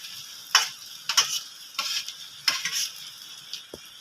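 Fried vegetables tossed into a hot pan with crushed ginger and garlic while cooking, giving a series of short sizzling bursts and scraping stirs, moderately loud and close with no talk.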